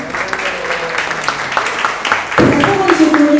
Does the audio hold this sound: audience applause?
yes